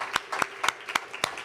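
Audience applause after a faculty presentation, heard as a short burst of a few sharp, separate hand claps about a quarter second apart, fairly close and loud.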